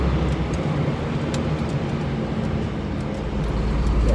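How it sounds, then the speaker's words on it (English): Inside a moving fire truck, a loud engine drone and road rumble fill the cab, a continuous low roar with no break and no voices heard. "You guys probably can't hear me because the engine is like really loud."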